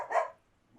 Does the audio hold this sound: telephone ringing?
no